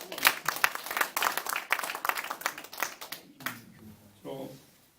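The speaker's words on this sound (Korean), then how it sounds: "고마운 박수 좀 부탁드립니다" An audience at a religious gathering claps in brisk, dense applause for about three seconds before it thins out and a voice begins speaking.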